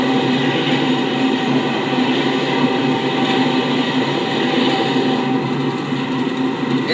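A train rumbles steadily along the rails, a continuous loud roar with a faint clatter that holds even throughout, with no voices.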